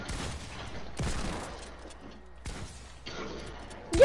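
Gunfire in a shooter video game, bursts of shots in several loud clusters separated by brief lulls, ending with a sharp louder hit.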